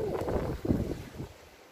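Outdoor wind buffeting the microphone on a fine day, low rushing gusts that swell and then fade out within two seconds, close and fairly faint.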